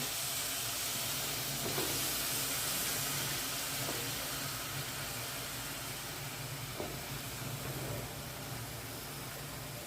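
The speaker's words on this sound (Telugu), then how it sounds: "ఇప్పుడు దీంట్లో తరి పెట్టుకున్న వంకాయలు వేస్తున్నానండి" Brinjal pieces dropped into a pan of fried onion, ginger and garlic for a brinjal and prawn curry, giving a steady close hiss and sizzle that runs throughout, with a few faint clinks along the way.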